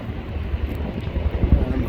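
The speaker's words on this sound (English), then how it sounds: "that's why I have a heavy wind behind my back" Heavy wind drawn in toward a chaparral wildfire, buffeting the microphone as a steady, low, gusty rumble that swells slightly in short pulses.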